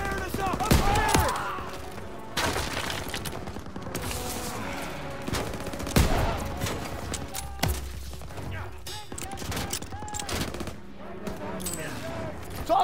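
Machine gun fire in a Call of Duty WWII battle, sustained rattling bursts punctuated by louder cracks and thumps, with shouted voices mixed in amid the chaos.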